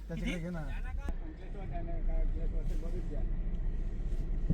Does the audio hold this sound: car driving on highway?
yes